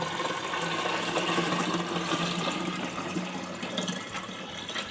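Water poured into a Pinter 3 home-brewing vessel makes a continuous close, loud splashing rush with no pauses and no voices.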